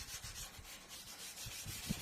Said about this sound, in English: start with long strokes back and forth, sanding the surface of the lens